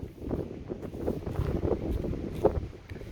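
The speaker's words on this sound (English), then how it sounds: "A lot of wind though." Steady wind buffeting the microphone at a hilltop pioneer cemetery in historic Shasta, California, a low, continuous rumbling roar with gusty swells and no speech.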